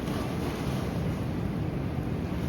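Surf breaks on a Cornwall beach at Trevornick, a dense, continuous wash of water mixed with heavy wind buffeting the microphone, loud and steady throughout with no talking.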